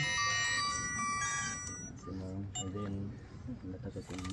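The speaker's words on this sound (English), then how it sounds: "Every time someone deposits a saving, everyone in the group gets a notification" Phone notification chimes from a savings group's deposits in Tanzania, a bright tonal ringtone melody followed by short chirping alert tones under nearby talk.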